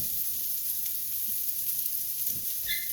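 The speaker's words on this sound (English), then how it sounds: "Flipping that fish. Got some nice color to that." Fish fillets sizzle steadily in a hot pan just after being flipped, a loud, even frying hiss running throughout with a faint clink near the end and no voices.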